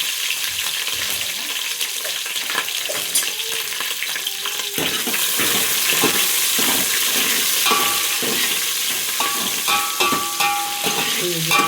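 Two dry red chillies fry in hot oil already holding cumin and mustard seeds, giving a loud, continuous close sizzle with scattered crackles and pops and the scrape of stirring, without speech.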